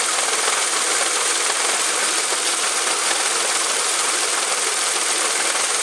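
A Hyundai HB20 1.0 three-cylinder engine running with a suspected displaced accessory-drive pulley, heard as a steady, hissy mechanical whir at close range with no pauses or voices.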